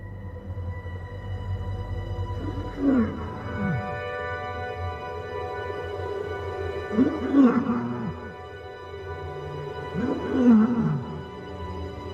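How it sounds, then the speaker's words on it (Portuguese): An old, weakened lioness in the desert gives a peculiar, unsteady, frail roar, three separate drawn-out calls spaced several seconds apart, moderately close over a low background rumble. "Este é o grito peculiar e instável das velhas leoas."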